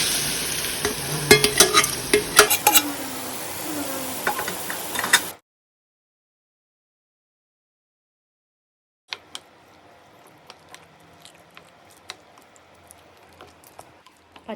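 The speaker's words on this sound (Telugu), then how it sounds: "ఇప్పుడు ఈ ఆయిల్ మొత్తం కంప్లీట్గా పచ్చడిలో వేసేయాలండి" Hot tempering oil poured into homemade ginger pickle gives a loud burst of crackling sizzle and stirring for about five seconds, then silence, then faint scattered stirring clicks.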